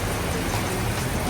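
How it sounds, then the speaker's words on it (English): Steady rain comes down hard, a dense, even hiss of drops on the surface close by, continuous and unbroken with no voices over it. "Now we got more rain."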